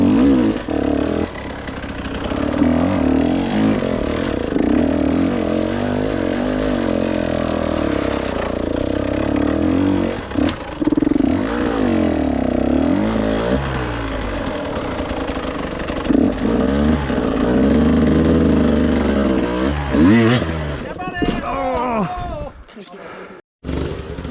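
A KTM 150 XCW TPI two-stroke enduro motorcycle roars and revs hard through hard enduro riding, a loud continuous buzzing drone rising and falling in pitch, close to the microphone, with a rider's exclamations near the end.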